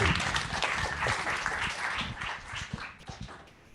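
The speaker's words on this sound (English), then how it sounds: "let's give him a round of applause." Audience applause at a remix meetup in New York City, a moderate crowd clapping steadily, fairly near, then thinning and fading out toward the end.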